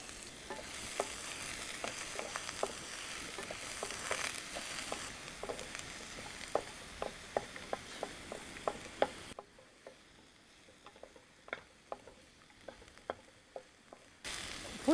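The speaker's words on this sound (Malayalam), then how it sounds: "അടുത്ത് പച്ചമുളക്, അടുത്ത് സവാള ഇട്ട് വശക്കാം." Green chillies and onion sauté in a pan with a quiet, steady sizzle and frequent light spatula clicks, dipping briefly before the stirring clicks resume.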